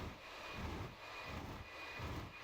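A jet with afterburner lit in a flat spin in the DCS World flight sim gives a low, faint engine roar that swells and fades in slow, regular pulses, with no voices over it.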